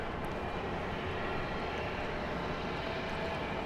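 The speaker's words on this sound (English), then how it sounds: "We have a little puddle jumper coming in, a Cessna 208B Grand Caravan." A Cessna 208B Grand Caravan single-engine turboprop approaches an airport at night, heard as a faint, steady, distant propeller drone over broadband airfield hum with no talk.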